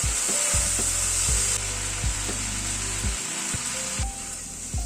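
Chicken and vegetables stir-fried in a pan hiss with a steady sizzle while a spatula scrapes and knocks against the metal in repeated strokes, close and loud.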